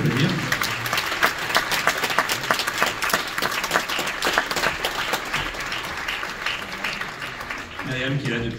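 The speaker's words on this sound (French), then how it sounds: "Il faut l'applaudir." The audience at the PIFFF 2023 closing ceremony claps for a jury member as she comes on stage. The applause is dense and sustained for several seconds, then fades while a voice carries on speaking over it.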